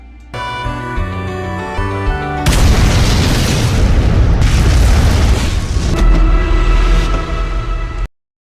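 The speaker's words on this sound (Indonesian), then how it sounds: "Namun seketika bom itu meledak dan mengenai wakil polisi Zhang." A sudden loud bomb explosion bursts in after a musical passage, followed by a sustained roaring rumble that fades under returning music before ending abruptly.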